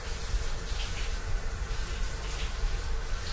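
Strong shower water flow in a video game, a steady broadband hiss of spraying water running continuously at moderate loudness with no speech.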